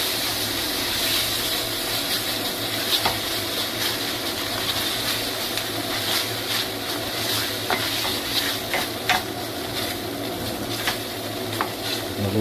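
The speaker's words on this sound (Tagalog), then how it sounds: "lutuin mo yung tomato paste" Tomato paste fries for chicken caldereta with a loud, dense, continuous sizzle close by, broken by repeated stirring scrapes and clinks against the pan, and no voices.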